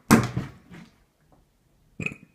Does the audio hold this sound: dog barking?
no